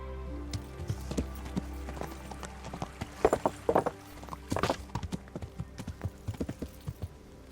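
Horse hooves clip-clop at a walking pace in the video game Kingdom Come: Deliverance, a steady series of hollow knocks growing slightly louder midway, with no voices.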